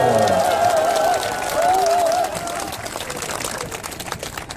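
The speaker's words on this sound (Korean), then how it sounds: "이행자 의원님 박수로 뜨겁게 환영해 주십시오." Applause from an audience welcoming a council member, a fairly steady spread of clapping under a sung or tonal voice at first, then thinning into looser scattered claps.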